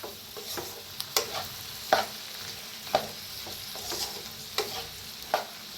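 Cooked rice, salted during boiling, is mixed around a hot pan, with regular scraping and turning strokes over a soft, constant sizzle, close up and without voices.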